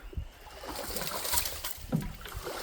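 A canoe paddle dips and pulls through the water of a pond, with soft splashes and swishes repeating close by amid light wind noise.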